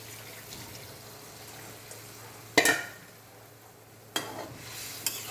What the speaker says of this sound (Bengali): এই যে এখন জল দিয়ে দিলাম